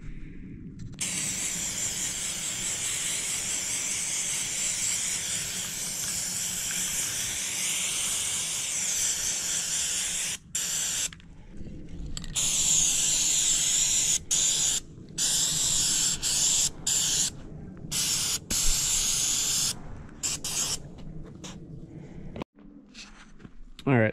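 Aerosol spray of Maxima chain oil or PJ1 cleaner onto a motorcycle chain, long hissing bursts broken by short pauses, close and fairly loud, with faint background shuffling.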